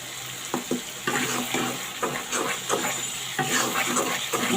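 Spice masala for beef tongue and brain fries in a pan with a constant sizzle, as a spoon stirs and scrapes through it in an uneven rhythm.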